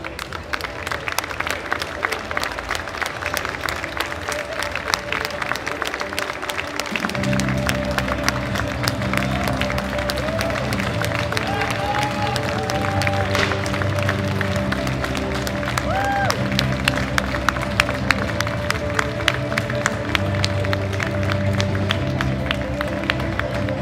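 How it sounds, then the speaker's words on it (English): A crowd at a junior women's powerlifting competition in Amsterdam claps and cheers in a sustained, fairly loud wash, while a low rhythmic music bed and scattered voices run beneath it. "please join me, ladies and gentlemen, in giving them a huge round of applause"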